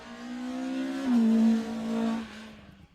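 A rally car on a junior spring rally stage comes out of a handbrake turn, engine note holding steady then dipping and rising again as it pulls away and fades into the distance.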